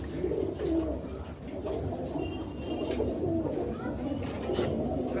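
Madrasi pigeons coo softly from a rooftop loft, their low repeated calls clear and close, with a faint chirp or two over steady outdoor background noise.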